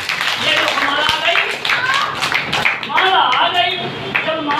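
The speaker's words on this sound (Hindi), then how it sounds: "ताली बजा।" Hand clapping during a storytelling performance, heard as several sharp claps scattered among steady speech from someone narrating close by.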